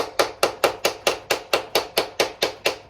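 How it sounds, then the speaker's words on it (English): Someone knocks the axle out of a Kawasaki KX100 with a hammer, landing about a dozen sharp metallic blows at an even, brisk rhythm, close and loud. "we're gonna get a hammer and just hammer it out a little bit."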